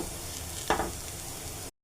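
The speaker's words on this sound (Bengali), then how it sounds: "পেঁয়াজ ভাজা হয়ে যাচ্ছে, এখন মশলাটা দিয়ে দেব।" Onions fry in oil, a low, steady sizzle broken by a short louder spatter partway through, before the sound cuts off abruptly.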